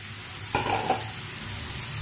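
Onions and boiled chicken frying in a pan make a loud, steady sizzle, with a brief burst of stirring and scraping partway through.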